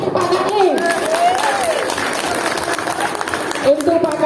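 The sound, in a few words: audience applauding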